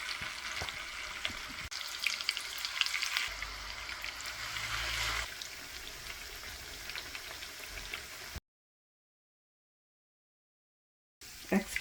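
Chicken chapli kebabs frying in oil in a pan, a soft, steady sizzle and crackle heard close up without talk. It drops out to silence for a few seconds near the end before briefly returning.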